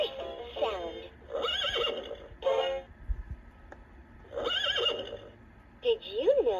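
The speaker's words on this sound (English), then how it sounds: "Hear a horse sound." A Leapfrog Fridge Farm magnetic animal toy (2007 version) plays a recorded horse whinny, a few bright neighing calls broken up by short gaps, set among the toy's spoken narration.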